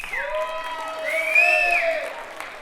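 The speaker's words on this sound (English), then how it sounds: "Let's get a big round of applause for these guys." An audience at a stand-up comedy show whoops and cheers loudly with clapping underneath, rising voices dominating briefly before tapering off.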